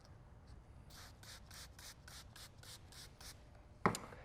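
Graphene ceramic coating being rubbed into car paint by hand, heard as about ten steady, soft rhythmic swishes followed by one sharper scrape at the end, quiet and close.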